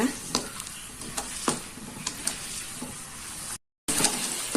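Shredded chicken being stirred with spices in a pan, a close frying hiss punctuated by repeated spoon scrapes and knocks, briefly cut to silence before the sizzle resumes, no talk.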